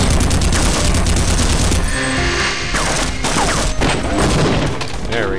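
Rapid bursts of gunfire from the Half-Quake game crackle loudly and almost nonstop, layered with mechanical clanks and other in-game sounds, with no pauses between volleys.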